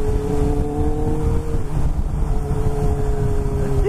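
A Kawasaki Ninja H2 motorcycle engine roars steadily up close, holding a sustained loud drone with a smooth harmonic hum and no pause.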